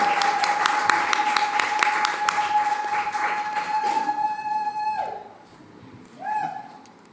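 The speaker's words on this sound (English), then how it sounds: "A round of applause, please." Applause from an awards ceremony audience on climate solutions, fairly steady for about five seconds before it fades, followed by a brief tonal sound near the end.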